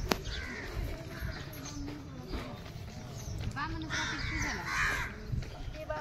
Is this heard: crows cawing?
yes